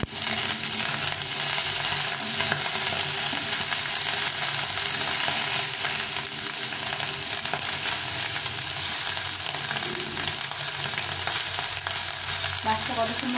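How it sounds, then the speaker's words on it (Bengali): Small mola fish frying in hot oil in a pan, with a steady, loud continuous sizzle throughout and occasional scraping clinks as the fish are stirred and turned. "এইভাবে করে নড়িয়ে নড়িয়ে দিয়ে মাছটা ভাজতে হবে"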